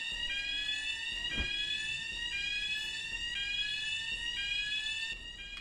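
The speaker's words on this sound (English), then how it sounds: "Wow, that alarm is annoying. I mean, it is a fire alarm." In the video game Tokyo Dark: Remembrance, a fire alarm rings with a steady, shrill electronic tone that continues unbroken for several seconds, with a soft thump partway through.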